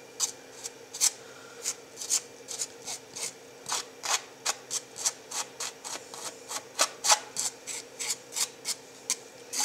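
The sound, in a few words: palette knife scraping texture paste onto canvas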